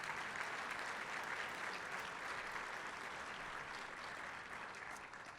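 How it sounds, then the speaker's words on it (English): A large audience claps steadily at a leadership prize ceremony, a dense, even wash of applause that holds for several seconds and eases slightly at the end, with no voices over it. "Applause for that, and applause for everybody."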